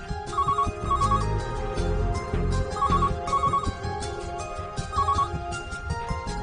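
A telephone ringtone chirps in repeated short bursts over a busy low rumble of background sound, the rings recurring at regular intervals.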